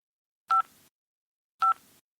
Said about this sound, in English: pressed the green buttons on their time travel phones